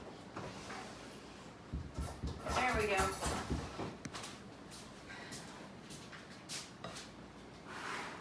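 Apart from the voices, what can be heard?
kitchen drawer being opened and closed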